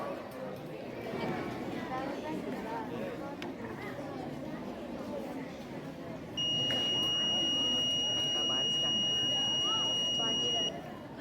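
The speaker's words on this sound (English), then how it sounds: "when I have just thrown a drop of water on the rainwater sensor, it starts buzzing up" An Arduino Uno rain sensor alarm buzzer sounds once water hits the sensor, a steady two-tone electronic buzz holding for about four seconds in the second half, over background chatter and room noise.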